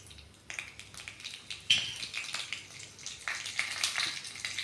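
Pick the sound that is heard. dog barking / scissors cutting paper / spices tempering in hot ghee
spices tempering in hot ghee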